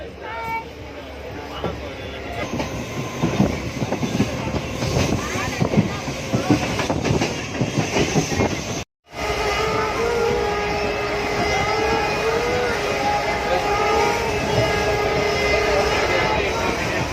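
A train pulls away and moves toward Karaikudi railway station, a steady rolling rumble with rail clatter running throughout, briefly cut near the middle, while people chat nearby.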